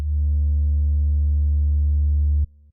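A sustained sub bass note from the GMS synth's Bass 2 MC preset in FL Studio for an Amapiano beat, a deep, loud, pure tone held steadily for over two seconds before cutting off abruptly.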